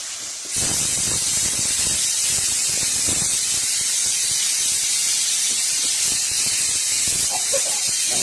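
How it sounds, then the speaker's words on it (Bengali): A loud, steady sizzling hiss starts abruptly and continues throughout, garlic paste frying in hot oil, with faint clicks and no talking. "সব রসুন বাটাটাকে আমি হালকা করে ভেজে নেব, কারণ কাঁচা রসুনের গন্ধ হবে।"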